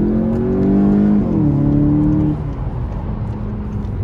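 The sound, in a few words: Volkswagen Golf 7 GTI engine revving under full acceleration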